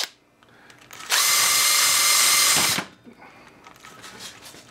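A power drill with a worn wire brush whirs loudly and steadily for about two seconds while cleaning a hole in a 1978 Johnson 6 HP outboard motor, then winds down and stops, with quiet workshop noise before and after.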